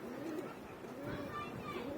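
Pigeons coo softly in a steady low murmur, with a voice faintly present underneath.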